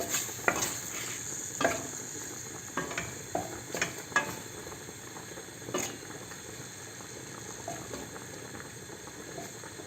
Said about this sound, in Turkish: biz de tavuklarımızı pişiriyoruz